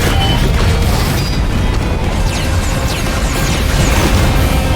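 Dense, continuous roar of boss attack explosions from Risk of Rain 2, loud booms and fiery bursts layered thickly without pause, with no speech.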